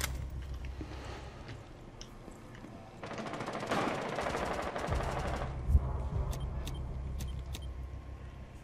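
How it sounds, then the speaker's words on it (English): Gunfire in Rainbow Six Siege comes as a dense burst of rapid automatic shots lasting about two seconds, then one sharp report. A low game engine rumble runs underneath, and there is no talk. "Rook shooting a guy on the balcony bit"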